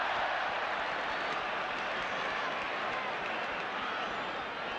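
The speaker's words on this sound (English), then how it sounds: "Albion crowd growing restless as Liverpool build up with Rush" A large football stadium crowd at a 1983 West Bromwich Albion versus Liverpool match roars in a loud, continuous, dense wash of cheering and noise, with a commentator's voice faintly underneath.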